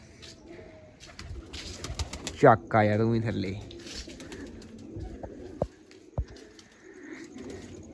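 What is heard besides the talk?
pigeons cooing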